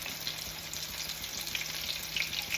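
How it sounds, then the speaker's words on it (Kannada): Fish sizzling in oil on a tava pan, a steady broadband hiss with faint crackles and no pauses, close and moderately loud, with no one speaking. "ಪ್ಯಾನಲ್ಲಿ 4 ಮೀನು ಹಾಕ್ತೀನಿ."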